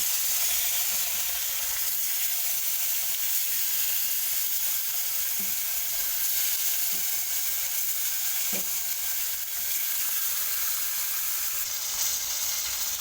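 Rohu fish pieces fry one by one in hot oil with a steady, loud sizzle throughout, broken only by a few soft clicks and taps, with no talking.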